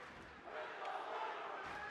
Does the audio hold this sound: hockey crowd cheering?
yes